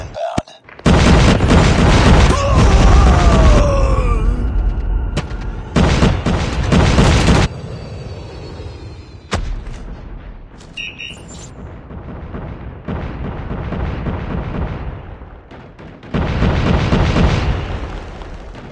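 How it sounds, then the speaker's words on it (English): Loud Predator missile explosions in Call of Duty Mobile, heavy booming blasts that fill the opening seconds, then a short break and another burst. Rumbling impacts recur at a lower level, and a final loud boom hits near the end. "Friendly Predator missile inbound."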